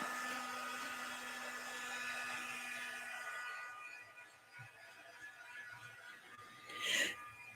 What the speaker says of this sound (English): So now I'm going to dry this with my magic dryer.